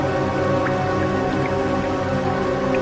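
Steady rain falls hard and continuously, a dense, loud wash of drops that never lets up, with no voices over it.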